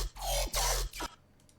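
A bass loop in Ableton plays as dense, punchy low-end bursts, three heavy chopped notes in quick succession, loud and dry, then a quiet tail.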